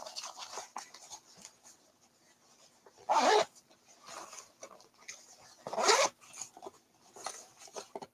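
Zippers on a small travel pencil pouch are pulled open in two sharp, close zips a few seconds apart, amid soft rustling and handling in a quiet room.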